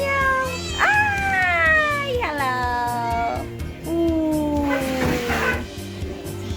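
A cat meows loudly and repeatedly, drawn-out wailing cries close by, over a steady rumbling background with some voices mixed in.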